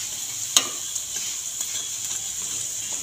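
Drumstick flower fritters (sojne phool bora) crisping in hot oil, a steady close hiss and sizzle running throughout with one sharp pop near the start.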